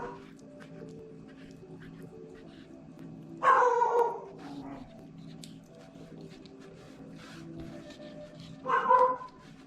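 Two separate barks from a caged dog several seconds apart, moderately loud and nearby, over a low background hum with faint activity.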